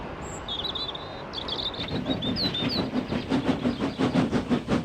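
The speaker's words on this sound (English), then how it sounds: "the train starts the 4-mile climb at an average gradient of 1 in 53" A coal train rumbles closer on a 1 in 53 climb with a rhythmic, pulsing chug that grows steadily louder, while birds chirp and twitter in the background.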